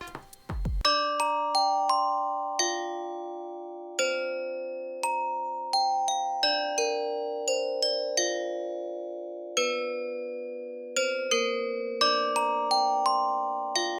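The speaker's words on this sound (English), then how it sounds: "So the glockenspiel lead by itself sounds like this." A bright glockenspiel plays a solo melody, each metal bar ringing out clearly and decaying, notes spaced in an unhurried, lilting rhythm.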